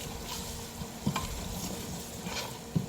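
Masala with mixed chilli powder stirred and fried in a pan for tinde ki sabzi, a steady close sizzle with scraping spoon strokes and two sharper clinks against the pan.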